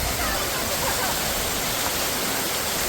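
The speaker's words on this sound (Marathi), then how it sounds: "आणखी एक धबधबा" A monsoon waterfall in the Andharban jungle of Maharashtra's hills roars loudly and evenly, a dense continuous wash of falling water that fills the whole moment without a break.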